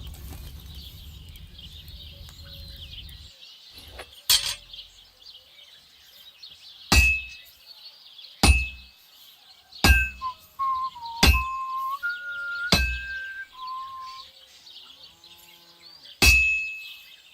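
Hammer strikes on heated metal at an anvil in a medieval blacksmith's forge, Kingdom Come: Deliverance 2: about eight sharp ringing clangs spaced a second or two apart, each leaving a bright metallic ring, with soft whistle-like tones between blows.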